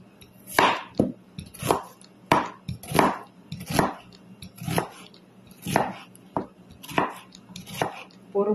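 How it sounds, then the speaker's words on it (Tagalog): A knife chops onion on a cutting board for a macaroni dish, giving about eight sharp, evenly spaced strikes, close and fairly loud, with no talking. "Next, I cut the onion."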